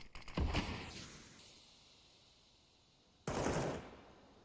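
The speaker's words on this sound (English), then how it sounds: "Shots being rattled through." Gunshots in a Counter-Strike: Global Offensive match on Dust2, with a sharp volley at the start, then a quiet stretch, then another loud burst of fire near the end.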